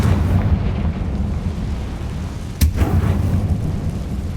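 A Confringo spell explodes in the Hogwarts Legacy video game, heard as a loud, sustained roaring rumble with a sharp burst partway through and no talking.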